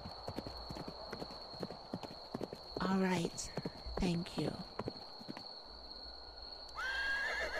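Horse hooves clip-clop steadily beneath a woman's soft ASMR-style speech, with two close, loud neighs breaking through and a whinny near the end; a high steady tone runs throughout.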